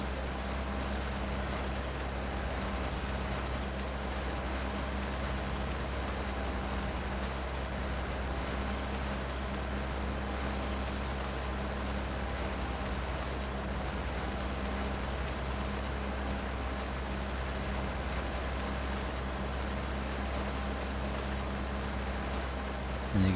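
A tractor engine running steadily while turning in a grape field in Farming Simulator 22, a constant low droning hum with a broad airy wash, unbroken for the whole stretch and no talk.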